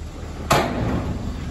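Door on a custom-built dump truck body swung shut, a single sharp slam followed by a short rattling decay over faint outdoor background.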